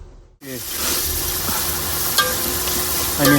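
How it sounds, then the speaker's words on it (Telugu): Onions and green chillies hit hot oil in a pan and sizzle loudly and continuously, with a few scrapes of stirring and no voices. "ప్యాన్లోకి ఆయిల్ తీసుకొని ఆనియన్స్, పచ్చిమిర్చి ఫ్రై చేసుకుంటున్నాం."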